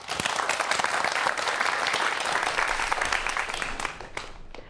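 A lecture audience applauds a speaker taking the stage, with close, dense clapping that stays even for about four seconds and then quickly fades out.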